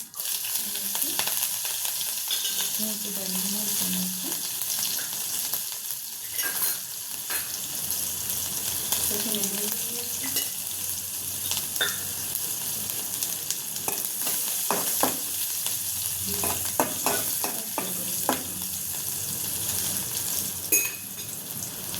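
Mustard seeds, cumin, asafoetida and chili sizzle in hot oil for an aloo paratha filling, a constant bright crackle with scattered pops and stirring clatters close by, no talk over it.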